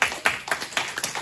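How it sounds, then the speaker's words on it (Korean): Church congregation clapping at a revival service, a short burst of sharp, fairly close claps in an uneven rhythm, with no talk over it. "박수."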